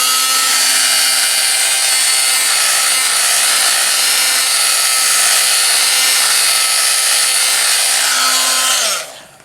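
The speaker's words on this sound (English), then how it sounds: "I'm going to get my heat tool and just kind of just to dry it up." A heat tool blows air to dry a 3D craft project: a loud, steady whooshing roar with a motor whine runs without a break, then cuts off and winds down quickly at the end.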